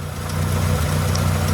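Car engine idling on a rebuilt ACDodd HS2 carburettor, fitted in place of a worn-out original: a steady, even low rumble with constant vibration, close and unbroken throughout.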